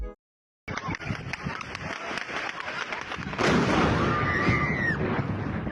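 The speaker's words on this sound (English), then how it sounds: "the gunfire, what seems to be security personnel trying to shoot the drones down" Gunfire from security personnel inside Russia shooting at Ukrainian drones, a dense run of rapid bangs and pops that starts abruptly after a brief silence and grows louder and more continuous toward the end.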